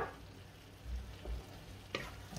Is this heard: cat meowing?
no